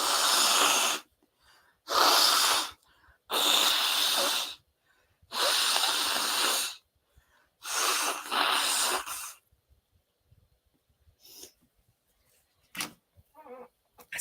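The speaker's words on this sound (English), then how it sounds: "I got to blow my nose" Someone blows their nose in five long, forceful honking bursts close up, with short breathy pauses between, then a few faint rustles.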